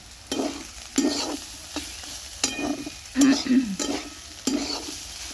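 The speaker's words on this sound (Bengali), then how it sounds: "এখানে আলু উচ্ছে ভাজা করছি" Potatoes and bitter gourd frying in a pan over a wood fire, repeated rhythmic spatula stirs scraping and clattering every second or so over a soft sizzle, close by.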